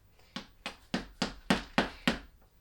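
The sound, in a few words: chiseling a dinosaur skeleton out of an excavation kit block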